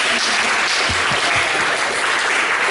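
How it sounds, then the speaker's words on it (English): Audience applause after a talk on cannabis in Kurilpa, a steady dense wash of many hands clapping, fairly loud and continuous, with no voices over it. "You can clap, go ahead."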